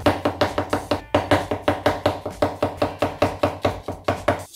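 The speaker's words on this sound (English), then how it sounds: "I've got a beautiful chestnut mushrooms. Look at those. Just gonna slice them off." A knife slices through chestnut mushrooms on a cutting board for a mushroom sauce, a steady run of close, crisp chops at a quick even rhythm with one short pause.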